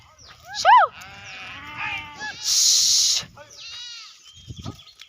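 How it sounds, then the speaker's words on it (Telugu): Several sheep bleat loudly and close by, overlapping calls rising and falling, with a burst of hissing noise and faint background sounds between them. "చూడండి గొర్రెలు అయితే ఇంకా ఇప్పుడే వస్తున్నాయి"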